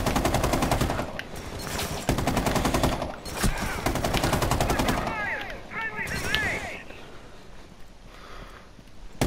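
Toy LMG guns fire in a one-on-one match, long rapid rattling bursts of shots, loud and close, broken by short pauses, with voices calling out between volleys.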